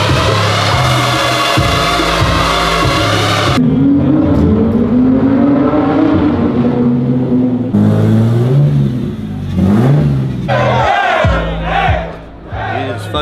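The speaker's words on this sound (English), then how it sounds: "Time for the street drifting, baby!" Loud car engines roar and rev in bursts during street drifting at a gas station, over a cheering crowd, with music thumping underneath and shouts scattered throughout.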